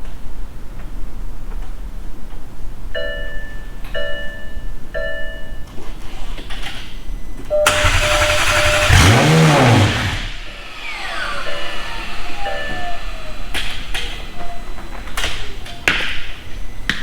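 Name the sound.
McLaren 720S engine starting and revving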